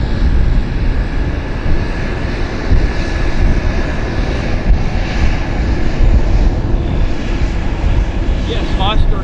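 A Lynx airliner departs Vancouver airport bound for Toronto, its engines producing a loud, steady roar that fills the whole stretch, with a person talking over it.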